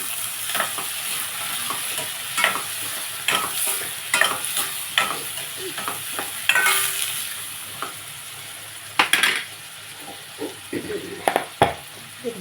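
Onions and green chillies sizzle steadily in a hot pan, with a spoon scraping and stirring in repeated close strokes over the continuous frying hiss.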